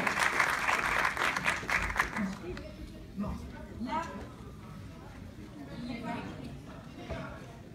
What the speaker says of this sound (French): je vais demander à nos invités d'applaudir afin qu'elles puissent rentrer sur scène